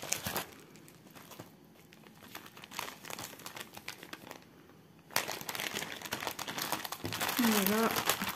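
Crinkling and crumpling of bubble wrap packaging sealed with tape as it is unwrapped, close and busy, growing louder toward the end, with someone talking at times.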